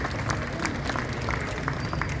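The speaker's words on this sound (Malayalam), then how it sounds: "കയ്യടി യുവജനങ്ങൾക്ക് കൊടുക്കും." A crowd applauding the youth at a jubilee celebration in Our Lady of Dolours Basilica, Thrissur, steady clapping from many people with a faint murmur, sustained evenly across the moment.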